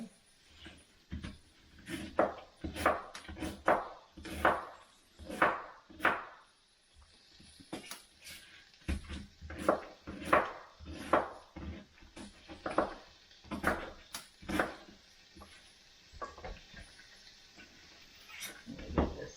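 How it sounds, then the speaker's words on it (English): A knife chops cabbage on a cutting board, irregular rapid strikes in bursts with short pauses, close and moderately loud, no talking. "now we'll continue chopping our cabbage up"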